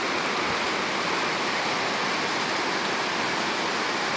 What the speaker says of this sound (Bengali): এত অঝরে বৃষ্টি পড়ছে